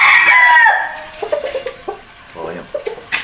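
A fighting rooster crows loudly and close, one long call fading out, followed by softer clucks and short vocal bursts from nearby fowl.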